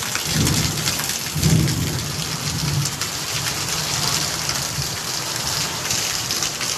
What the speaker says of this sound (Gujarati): તમને લોકોને ખબર છે આવા વીજળીના કડાકા ને ભડાકા શું કામે થાય?